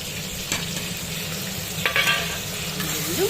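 Spices fry and get stirred in a pan for a Bengali bhetki fish bone curry, giving a steady close sizzle with scraping stir strokes and a brief louder burst near the middle.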